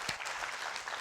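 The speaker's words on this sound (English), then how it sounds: "Oh, give yourselves a round of applause" A theater audience at a women's TV show taping applauds in a brief, quiet, continuous patter of many hands, heard from a distance.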